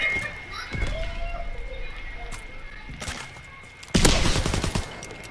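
Gunshots in a Call of Duty: WWII match: scattered sharp reports over steady ambient game noise, with a louder, closer burst of fire near the end.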